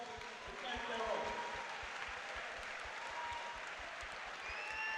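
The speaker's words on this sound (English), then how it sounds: "a round of applause for both boxers who gave their all" Crowd applause after a professional boxing match in England, steady clapping at moderate distance with a rhythmic thumping underneath and faint whistles near the end.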